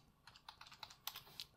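Quiet, quick keystrokes on a computer keyboard typing out a command, a rapid irregular patter of light clicks heard close and alone.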